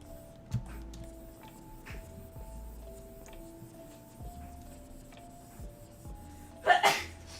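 A single sharp sneeze bursts out near the end, after several seconds of quiet background with faint soft noises.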